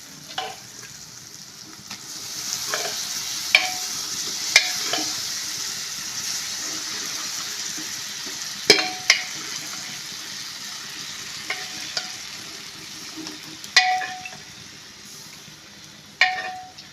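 Cooked green peas being stirred into a sizzling pan for a Kerala-style green peas curry, with a steady soft frying hiss and occasional spoon scrapes and clinks, close and moderately quiet, no talking.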